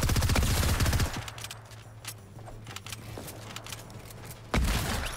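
Gunfire in the video game Fortnite: a loud burst of rapid shots at the start, faint scattered pops and a low engine hum in between, then another heavy burst at the end.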